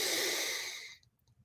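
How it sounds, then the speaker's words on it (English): A deep, full breath is let out in one long, close, breathy rush that fades away within a second, followed by near silence during a breathwork session. "That's a full circular breath."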